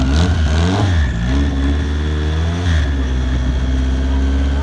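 Turbocharged 1000 hp Honda Civic hatchback with a 72 mm Precision single turbo at an Import vs Outlaws drag event, its engine revving loudly and close, pitch climbing and falling through repeated blips.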